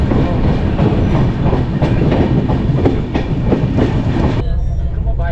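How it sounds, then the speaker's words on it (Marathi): A Konkan Railway train runs at speed, heard from inside an AC coach: a loud, continuous rumble with repeated clickety-clack wheel beats over the rail joints, and the roar dips slightly near the end. "ट्रेनचा स्पीड बघा सध्या 103 104च्या स्पीडने चाललंय."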